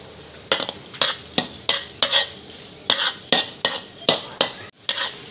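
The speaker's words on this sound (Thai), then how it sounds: "หลังจากนั้นค่ะเพิ่นก็สิขัวจนกว่าเขาแห้งค่ะ" A utensil scrapes and stirs June beetles frying in a little oil in a pan: about a dozen sharp metallic scrapes in a steady rhythm over a soft sizzle, close and clear.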